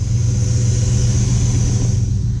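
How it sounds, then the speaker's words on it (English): A 1965 Buick Skylark engine runs with a steady, deep rumble, a constant low throb that is loud and close and holds even for the whole stretch, with no talking over it. "It's got a nice rumble to it, but it's not overpowering."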